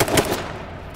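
Burst of rapid gunfire in the video game H1Z1, a quick string of about four sharp shots in under half a second, loud and close, then a short decaying tail.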